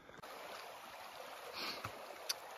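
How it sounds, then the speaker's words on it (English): 40 Mile Creek in Banff National Park flows in a soft, steady rush of water, faint and continuous with a few small splashes and clicks. "Welcome back, 40 Mile Creek."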